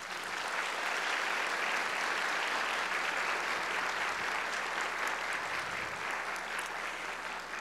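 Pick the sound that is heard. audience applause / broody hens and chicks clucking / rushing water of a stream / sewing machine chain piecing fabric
audience applause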